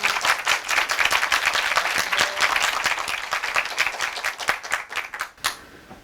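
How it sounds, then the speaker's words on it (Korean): An audience applauds to welcome a mayoral candidate at a youth policy event in Chuncheon, with dense, loud clapping that fades out near the end. "박수로 맞아주십시오."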